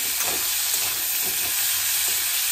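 Chopped tomato and two green chillies are stirred in a sizzling frying pan, a steady close hiss with soft scraping strokes repeating every half second or so, no voices.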